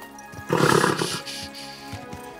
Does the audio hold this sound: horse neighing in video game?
yes